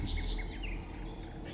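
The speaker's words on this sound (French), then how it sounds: "On va pouvoir se rajouter des petits oiseaux." Small birds chirping, added as sound design for a calm, natural setting: quick high tweets and short trills over a steady low rumbling ambience, soft and slightly distant.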